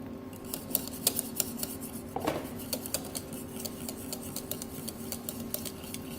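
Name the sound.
whisking custard cream in a saucepan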